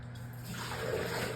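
Water being emptied out of a home fish tank, a steady splashing gush that grows louder and fuller partway through, close by and with no talk.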